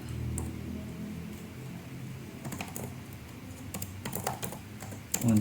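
A computer keyboard is typed on while writing loop code, with scattered close key clicks building into denser runs toward the end over a low background hum, and no speech.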